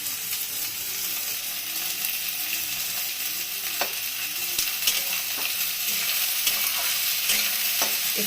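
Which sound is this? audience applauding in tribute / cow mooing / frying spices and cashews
frying spices and cashews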